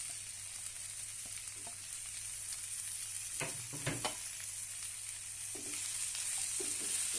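Onions and raw turmeric frying in a pan, a soft, steady sizzle with a few scattered stirring knocks and clatters.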